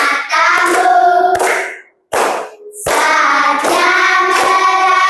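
A group of people clapping hands in unison during a classroom activity, loud rhythmic claps that stop briefly before resuming with the same steady beat.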